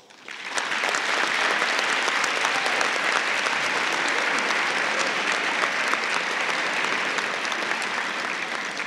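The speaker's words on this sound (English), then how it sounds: "they all deserve a round of applause" Sustained applause from an audience in a school gymnasium at a student awards ceremony, rising quickly and holding steady, loud and dense, for nearly nine seconds.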